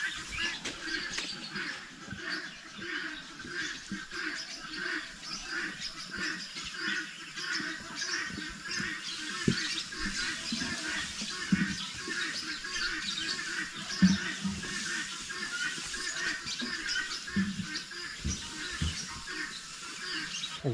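A crow calls outdoors near a farm hut where goats are kept, with repeated bird calls over a steady ambient background and a faint voice now and then.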